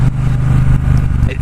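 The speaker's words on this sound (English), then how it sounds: "the Thruxton engine, the 1200 engine in here, which is a beast of an engine" A 2018 Triumph Bobber Black's 1200 Thruxton-tuned twin engine thumps at a steady, loud low idle-to-rev rumble close by, with a voice talking over it.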